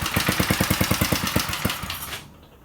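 A Briggs and Stratton 4HP small engine chugs to life after starting with the choke off, its rapid even firing pulses close and loud before tapering off and cutting out near the end.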